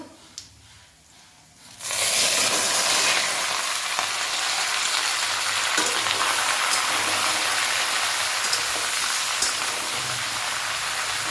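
After a quiet moment, mixed vegetables (flat beans, radish, pumpkin, eggplant, peas, tomato) hit hot oil seasoned with five-spice, bursting into a loud, continuous hissing sizzle that stays steady to the end.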